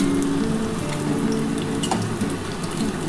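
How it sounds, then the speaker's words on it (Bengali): Paneer pieces frying in hot oil for restaurant-style dry chili paneer, a steady dense sizzle and crackle that runs loud and continuous throughout without talk. "যে কটা আছে এবার এইগুলো ভেজে নিই"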